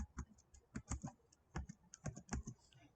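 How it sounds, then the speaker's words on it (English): Typing on a computer keyboard, a quick irregular run of close, crisp key clicks in bursts with short pauses, alone without talk. "I am typing here testing."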